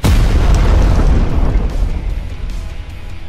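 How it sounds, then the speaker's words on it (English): A loud explosion booms in a Teenage Mutant Ninja Turtles video game, a heavy low rumble that hits at once and slowly fades over a few seconds, with no talk over it. "Okay, yeah, I heard the explosion."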